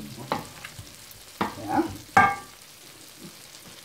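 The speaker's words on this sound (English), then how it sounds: "Then I add 1 cup chopped carrots." Chopped carrots go into a hot frying pan, with three distinct clattering stirs or tosses over a faint, low sizzle, close up and without talk.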